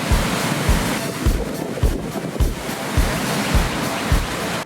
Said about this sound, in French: apparemment il y a des belles vagues